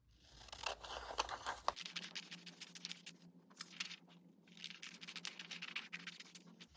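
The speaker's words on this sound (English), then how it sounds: "So for this strip right here, we're going to cut this out." Scissors cut a paper strip for a homemade paper roller coaster, giving a quick run of crisp snips and rustling paper, close and fairly quiet, with short pauses between bursts.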